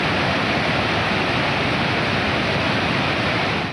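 Floodwater from a river flood surge in Punjab, Pakistan, rushing through submerged villages, a loud, steady, continuous roar of churning water with no break and no voices.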